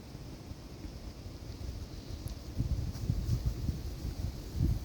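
Dry wind blows outdoors as a steady, low rumbling gust against the microphone, fairly faint, swelling slightly toward the end with no voices.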